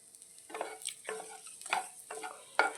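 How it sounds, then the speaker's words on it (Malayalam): Egg with moringa leaves frying in a pan while being stirred, a soft sizzle broken by several scraping stirs at an even pace, close and fairly quiet. "അതേപോലെ നന്നായിട്ടൊന്ന് പൊരിഞ്ഞെടുക്കട്ടെ"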